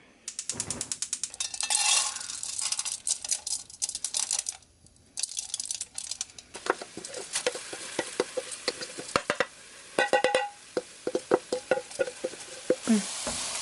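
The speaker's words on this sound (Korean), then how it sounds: "타지 않게 고루고루 잘 볶아주셔야 돼요" Drained, strained oats stirred and toasted in a hot pan, heard as rapid dry scraping and rattling strokes in irregular bursts, close and fairly quiet, with no talking.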